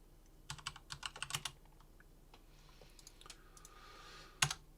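Typing on a computer keyboard to create a folder during a Raspberry Pi 4 setup, a quick close burst of key clicks, a pause, then a single sharp keystroke near the end.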